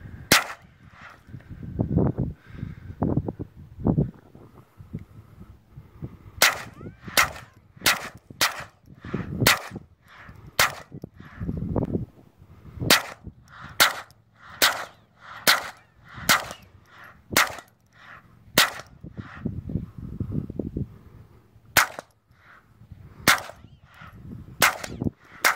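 Rapid string of sharp gunshots emptying a magazine outdoors in the desert, loud cracks in irregular bursts with short pauses, a few shots then a steady run of evenly spaced reports, no talking.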